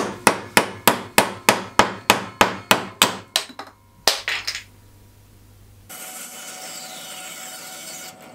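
Sharp wooden knocks from a handmade mallet striking a froe during assembly, about a dozen evenly paced blows close up, then a few scattered taps, a brief scrape and a steady low background hiss.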